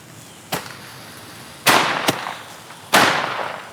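Firecrackers go off in a front yard, four sharp bangs at uneven intervals, two of them louder with a lingering crackle and echo, heard from a short distance with no talking.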